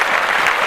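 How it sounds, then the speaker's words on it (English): Steady, dense applause from a live podcast audience, loud and continuous throughout with no pause. "Clap that shit up."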